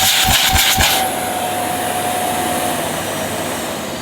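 A Dyson Ball Animal Multifloor vacuum cleaner is switched on and runs with a loud, steady motor roar and a high whine, preceded by a few thumps as it starts.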